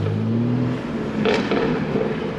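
A loud BMW G80 M3 revs and roars nearby on a city street, its exhaust rumbling steadily before dropping slightly, with a brief mechanical burst midway.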